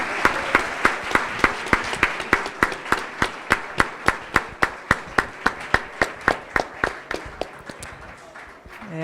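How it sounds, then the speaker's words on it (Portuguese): Clapping at the end of a panel on new forms of audiovisual production, heard as crisp, evenly spaced claps in a steady rhythm of about three per second that soften slightly toward the close. "Vamos aplaudir, por favor"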